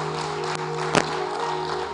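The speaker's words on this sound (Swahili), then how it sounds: "Kama mnaelewa, kujipigie makofi kidogo" A church congregation gives a brief round of applause during a sermon, heard as a steady wash of clapping with one slightly louder moment and no talking.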